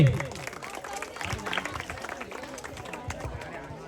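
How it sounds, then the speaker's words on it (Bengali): Students at an offline study-centre picnic break into applause, a dense burst of clapping with crowd noise that stays steady and fairly close for several seconds. "একটু হাততালি হোক জোরসে"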